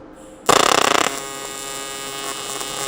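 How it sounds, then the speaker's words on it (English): A welder strikes a short tack weld: a sudden loud buzzing crackle with a rapid pulsing texture that lasts about half a second, then drops to a steady electrical hum. "The tack weld, just like a butt weld."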